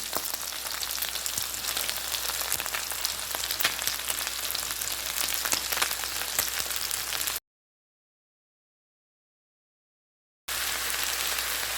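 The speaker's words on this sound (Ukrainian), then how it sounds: "До підсмаженого м'яса додаю цибулю." Onion goes into browned meat in a pan for a meat-with-prunes dish, giving a dense, even crackling hiss. The sizzle cuts out completely for about three seconds, then resumes just as strongly.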